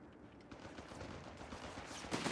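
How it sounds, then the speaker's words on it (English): Heavy machine gun fire in the World War II strategy game Company of Heroes 3, a dense continuous rattle of bursts layered with other battle noise, steady and fairly loud throughout. "heavy machine gun spam is definitely a thing for the U.S. Army"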